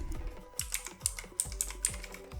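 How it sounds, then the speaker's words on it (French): Keys clatter on a computer keyboard while a short JavaScript command is entered, a quick irregular run of close, crisp clicks with a few heavier strokes and no talk over it. "Ici, on va prendre l'onglet console pour tester notre console. Et là, on va taper console.log."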